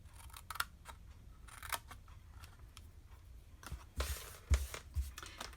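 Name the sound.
scissors cutting along score lines of a paper candy box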